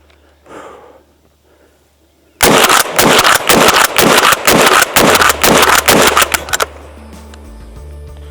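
A shotgun topped with an Olight Osight red dot fires birdshot in a fast string of about a dozen loud, sharp blasts, close range outdoors, followed by quieter handling noise.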